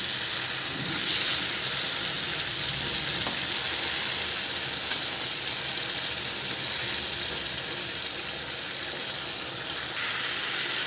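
Fish fries in hot oil in a pan for a fish curry (pulusu), a loud, steady, close sizzle that crackles without pause throughout, with no voices.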